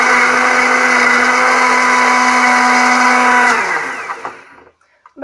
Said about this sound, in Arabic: غادي نضيف عليهم بنانة وغادي نخلطهم مزيان